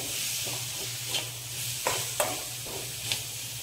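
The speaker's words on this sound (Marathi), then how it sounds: "धना जिरा पावडर घालून घेतलीये, पाव चमचा हळद, चवीनुसार मीठ आणि 1-2 मिनिटं छान परतून घ्यायचे" A spiced matar kachori filling with coriander-cumin powder, turmeric and salt is sautéed in a pan, giving a low continuous sizzle with a few light scraping stirs scattered through it.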